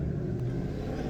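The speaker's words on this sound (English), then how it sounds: "That car's a little loud." A loud car passing outside an open window, a continuous low engine rumble filling the whole stretch, heard from inside a room without talk.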